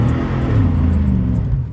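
A 4-wheel-drive truck on Thunderer Ranger A/TR LT tires off road on a rain-soaked Iowa level B road, engine winding out with a loud, steady low rumble as the tires dig and spin, close and continuous.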